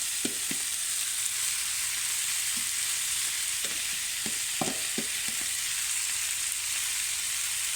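Onions frying in a pan, a steady broadband sizzle running throughout with a few soft knocks and stirring clatters scattered across it, close and moderately loud, no voices.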